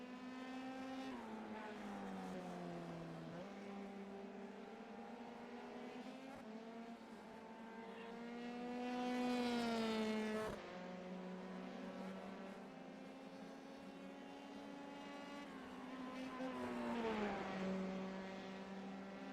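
Formula 3 race cars cross the finish of an American Grand Prix round in a racing video game: a steady, high-pitched engine drone runs throughout, rising into two louder pass-by swells, with no one talking.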